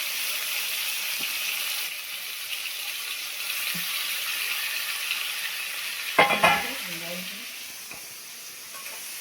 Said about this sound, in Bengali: চিংড়ি মাছগুলো ভালো করে ভেজে নিই।